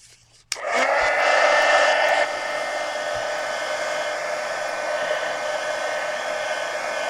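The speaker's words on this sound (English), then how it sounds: "let me go ahead and hit this with the heat gun" A heat gun blowing hot air over a mixed media art journal page switches on with a sudden click, then roars as a loud, steady close rush that drops slightly in level and keeps going.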